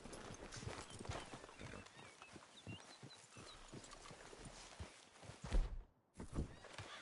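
Horses in the video game Red Dead Redemption 2, with a whinny and clopping hooves over quiet outdoor ambience, ending in a louder thump and a short drop to silence.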